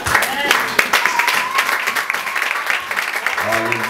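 Congregation at a church service applauding together, a dense, steady clatter of many hands with voices mixed in and rising near the end.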